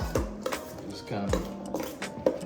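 Vegan oxtail ingredients being loosely mixed in a metal pot, with repeated close ringing clinks and scrapes of a utensil against the pot in an uneven rhythm.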